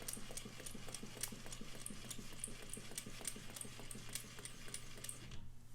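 A sewing machine stitches lines on paper, a fast steady mechanical ticking with regular rhythmic clicks and a low motor hum running throughout, close by and fairly quiet, with no talk.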